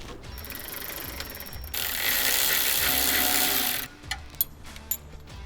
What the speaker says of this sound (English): Grab your 10mm wrench, another 10mm for the front,